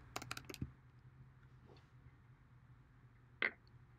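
Quick bursts of typing on a computer keyboard, a cluster of clicks at the start and a single sharp keystroke later, quiet and close over a low steady hum in an otherwise silent room.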